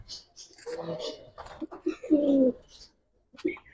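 Young giribaz pigeons, cobra and silver types, give short, low, throaty coos close by. A person talks over and between the calls.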